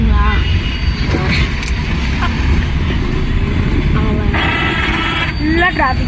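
Dense road traffic in Trichy, with a steady roar of cars, motorcycles and buses and occasional short horn toots, loud and continuous throughout.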